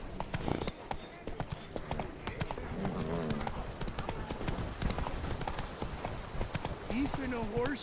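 Horse hooves clip-clopping at a gallop in The Witcher 3: Wild Hunt, a rapid, steady drumming of hoofbeats throughout, joined by brief whinny-like tones and someone talking over it.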